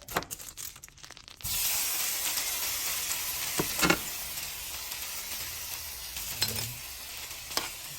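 Shrimp drops into a hot pan and bursts into a loud, steady sizzle that holds close and unbroken, with a few brief clinks and stirring knocks over the hiss.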